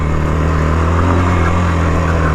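A Bashan Brozz 250 dual-sport motorcycle climbs a steep rocky off-road trail in first gear, its engine droning loud, close and steady under load.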